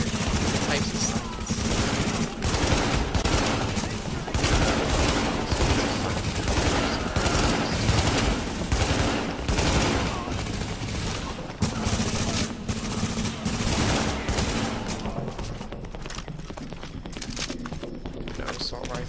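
Assault rifle fire in The Division video game, rapid bursts of gunshots and clattering action sounds running under near-constant talk from a player.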